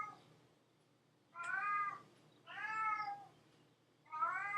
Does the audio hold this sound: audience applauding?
no